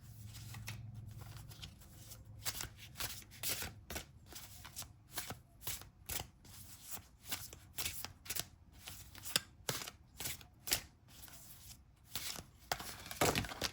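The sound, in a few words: tarot cards being drawn and shuffled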